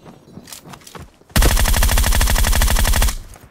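Quiet shuffling gives way to a sudden loud burst of rapid automatic gunfire in a squad-battle video game that rattles on for nearly two seconds, then stops.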